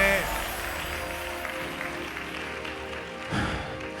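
A church congregation bursts into dense, continuous applause during a Malayalam and English sermon, a wash of many hands at fairly even loudness over a faint musical tone, swelling briefly near the end.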